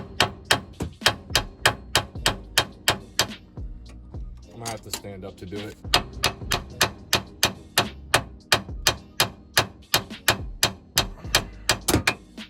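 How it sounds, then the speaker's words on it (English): Repeated sharp metallic hammer blows on the side of a tie rod of a 2011-2016 Scion tC in a steady rhythm with a short pause in the middle, and someone speaks briefly between strikes. "I pried down on it and you hammer the side of it"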